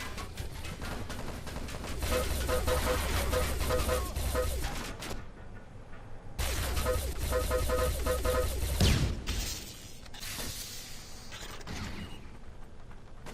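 Video game gunfire: two long bursts of rapid, rattling automatic shots at close range, separated by a short pause, followed by quieter mechanical clanks and distant combat.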